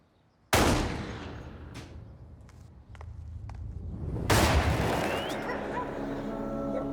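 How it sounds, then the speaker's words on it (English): Gunshots go off in a residential street: two loud, sharp blasts about four seconds apart, each with a long echoing decay, and a few faint cracks between them. "He hears 2 gunshots, and he said there's about a 4-second delay, and then the 3rd shot"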